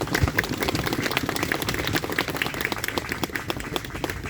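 An outdoor crowd at a rally applauds to welcome a speaker, with steady, moderately loud clapping and scattered sharp individual claps that continue throughout.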